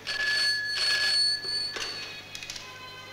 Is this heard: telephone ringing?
yes